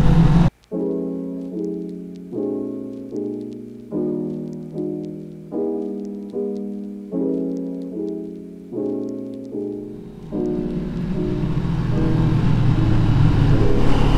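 A Kawasaki ER6n motorcycle revs in a string of evenly spaced, rising engine pulses, then pulls away as a growing rush of wind covers the engine.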